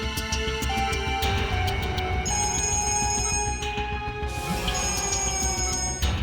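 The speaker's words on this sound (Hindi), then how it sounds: "बार-बार फोन आ रहा है" Telephone ringing in a police drama scene, bright repeated bell-like tones sounding over a busy background of music and clatter, fairly loud and continuous.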